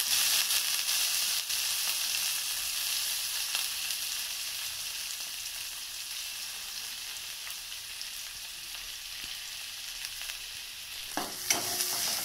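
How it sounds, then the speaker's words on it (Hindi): Soaked fenugreek leaves (methi) frying with chopped green chillies in a hot pan, a steady close sizzle with soft stirring scrapes and a few clinks toward the end. "अब इसमें हमने जो मेथी की भाजी भिगोई हुई थी वो डाल देंगे"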